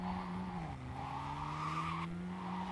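A car in Cyberpunk 2077 drives with a steady engine drone while its tires squeal in a long skid, the pitch dipping briefly and then holding, close and continuous.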